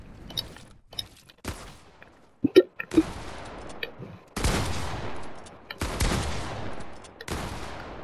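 Shotgun blasts in a video game come as separate sharp booms with quiet gaps between them, moderately loud. A few louder shots cluster near the end.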